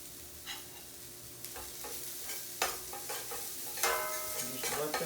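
Chopped brunoise shallots cook gently in a pan for steak Diane, a soft steady sizzle with intermittent scraping and stirring clatter close by, no voices.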